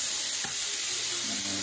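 Vegetables sautéing in a pan, giving a steady soft sizzle with a faint stir or scrape partway through, heard alone and fairly quiet.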